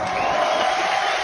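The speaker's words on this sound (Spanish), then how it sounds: "Los aplausos." Crowd cheering and applause at an outdoor ceremony handing over traditional staffs of command outside a court, a dense, steady roar of many voices and claps with a few whoops over the full stretch.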